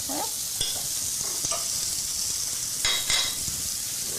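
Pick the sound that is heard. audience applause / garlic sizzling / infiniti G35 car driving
garlic sizzling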